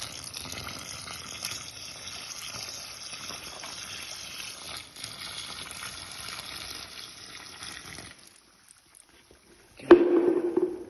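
Water tipped from a container into a 20 kg bag of screed mix, a continuous pouring gush for several seconds that stops abruptly, followed after a brief pause by a short louder rustle and slosh.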